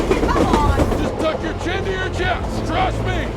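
A moving train in a thriller film rumbles steadily with low rail noise and rhythmic clatter, overlaid by dramatic music and brief voices throughout.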